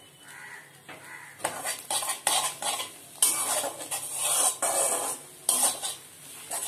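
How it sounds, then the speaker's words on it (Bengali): Eggs being stirred in a pan, with repeated sharp metallic scrapes and clinks of a utensil against the pan over a faint sizzle, irregular and close, with no talking. "ডিমগুলো আমার ভাজা হয়ে গিয়েছে।"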